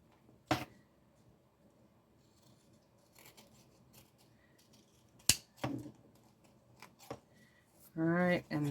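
Scissors trimming a magnet label give a few sharp, separate snips spread through a quiet stretch, close to the mic, followed by a brief burst of speech at the end.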